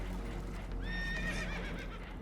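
Spooked horses in Red Dead Redemption 2 let out a high, wavering neigh over a constant loud rumble of rushing water and boat noise, one whinny lasting about a second.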